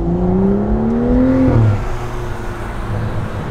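A BMW 135i with a Berk Technology catback race exhaust revs up, its tone climbing steadily before dropping back to a lower, rumbling idle. The sound is loud and close, with no talking.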